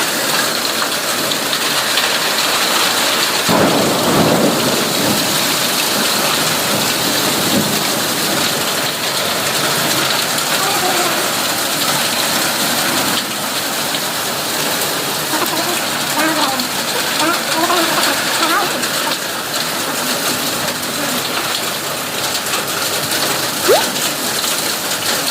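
Heavy monsoon-style rain pours steadily outside an open window, a dense, constant hiss with a faint low rumble of thunder, holding even for the whole stretch with no talk over it.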